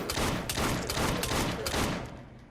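Rapid bursts of gunfire ring out in Assassin's Creed Syndicate, a dense volley of loud close shots fired in quick succession that tails off near the end.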